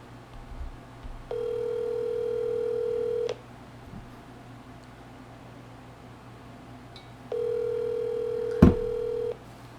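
Telephone ringback tones for an outgoing call, two long steady rings separated by a pause, with a faint click near the end and a quiet hum underneath.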